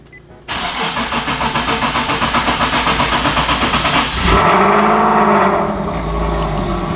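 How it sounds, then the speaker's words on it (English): A big-turbo Ford Focus ST engine cranks with a rapid starter chatter, then fires into a loud revving start and settles toward a rough idle, heard close up with no talking. "this car is definitely louder on a startup"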